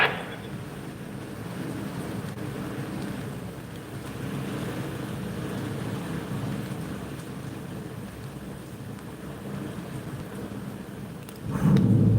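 A severe thunderstorm in the DC area brings heavy, steady rain with rolling thunder, a dense continuous roar that swells near the end, with no voices.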